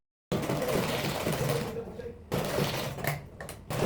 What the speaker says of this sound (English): you can now take to the sewing machine